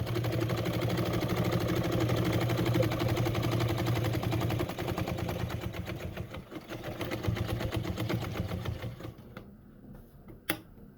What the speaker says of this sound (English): now I am going to go down and sew my seam.